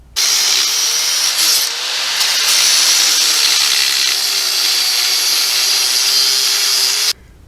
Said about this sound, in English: I'm simply just going to use the grinding wheel on the wafer wheel on the